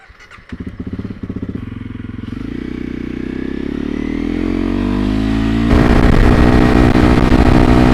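A 300 Rally motorcycle rides through strong wind, its engine revving steadily up through the gears and growing louder, with a heavy, constant roar by the end.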